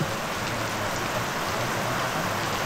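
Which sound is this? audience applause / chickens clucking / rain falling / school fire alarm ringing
rain falling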